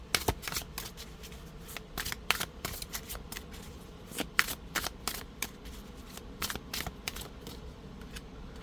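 Tarot cards are shuffled by hand in quick repeated bursts, each a crisp riffling flutter with short gaps between, close and steady for several seconds with no talking.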